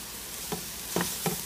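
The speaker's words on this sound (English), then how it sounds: "I'm going to give that a quick stir." A spoon stirs Detroit-style spaghetti sauce with oregano, basil and Romano cheese in a pot, giving three short scraping swishes at a quiet, close distance over a soft background hiss.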